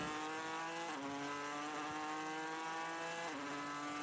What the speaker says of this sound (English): It still sounds, Audi going past, 21 hours, 24 minutes in, and still sounds as nice as it did all those hours ago.